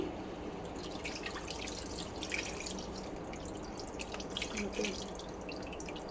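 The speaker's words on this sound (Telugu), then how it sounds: "మనం ముందుగా నానబెట్టుకున్నాం కదండి చింతపండుని ఆ వాటర్ని ఈ చేప ముక్కలన్నీ కూడా ములిగేంత వరకు పోసుకోవాలండి" Tamarind water is poured over fish pieces in a pan for a Bhimavaram-style fish stew. It makes a soft, steady trickling and splashing that runs continuously at a moderate level.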